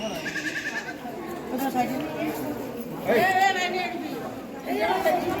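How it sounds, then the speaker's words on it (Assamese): Short goat bleats rise out of lively background chatter and voices, with a couple of wavering calls standing out near the end. "ছাগলী ছাগলী"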